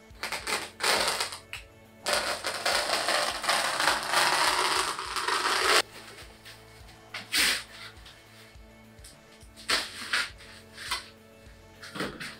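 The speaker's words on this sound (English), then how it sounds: "I'll get my Stanley knife and I will cut it" A Stanley knife slices through shadow foam inside a Pelicase, giving a long, loud rasping cut, followed by several shorter scraping strokes and scattered small clicks. No one talks.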